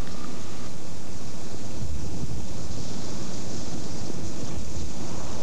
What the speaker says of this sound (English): In this case, the wind is very strong